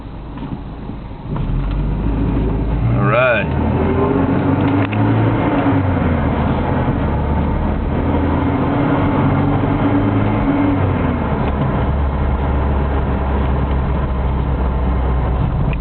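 A 1989 Volvo 240DL wagon with a 5-speed gearbox drives along, its engine hum and road noise loud and steady from inside the cabin, with a brief rising whine early on.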